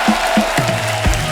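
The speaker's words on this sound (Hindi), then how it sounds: "गुंजन जी और विभू जी का जोरदार तालियों से स्वागत हो जाए।" Studio audience applause greets guests on The Kapil Sharma Show, a Hindi TV comedy show: a steady wash of clapping from a large crowd, loud and close, with a few sharper bursts.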